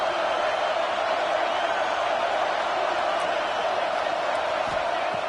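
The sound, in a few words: stadium crowd cheering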